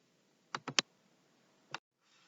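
Computer mouse clicks: a quick burst of three light clicks followed by a single isolated click a second later, crisp and close against near silence.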